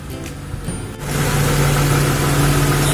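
A car engine idling at just over 1000 RPM during idle-speed adjustment, heard close and steady, with a brief lower, rougher patch before the idle settles into a firmer, even hum.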